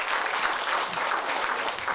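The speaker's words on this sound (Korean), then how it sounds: "네, 박수로 모시겠습니다." An audience at a high school bioscience debate final in Korea applauds to welcome a senior research director to the stage: steady, dense clapping from a roomful of people lasting throughout, with no talk over it.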